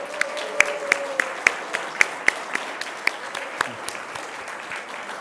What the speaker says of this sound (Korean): 다 같이 한번 박수를.